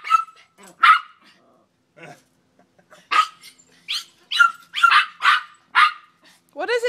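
A Miniature Pinscher barks repeatedly in sharp, loud bursts with short pauses, close by, ending in a higher yelp.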